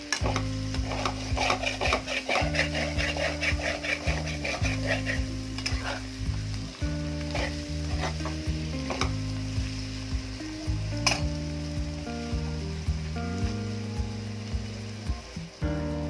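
Matar mushroom cooking in masala in a pan, steady frying sizzle with repeated scraping and stirring strokes, close and loud, no voices.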